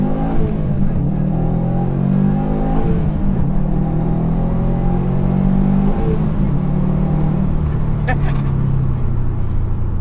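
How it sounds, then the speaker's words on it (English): A 2018 Subaru WRX STI boxer engine with a loud exhaust pulls under acceleration, a steady droning rumble that rises in pitch through the gears, heard from inside the car, with a brief shift dip midway. "Loud exhaust, I mean, it sounds amazing, but eventually it does get bothersome."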